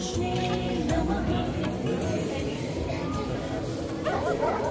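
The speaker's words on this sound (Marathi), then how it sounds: "कुत्रे बघ पुढे भुंकत आहे." Dogs bark and whimper in a theatrical stage-play setting, with yips heard continuously over loud voices and other sound.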